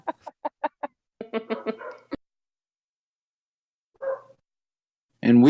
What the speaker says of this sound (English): we've got our dogs barking outside, and I can kind of hear them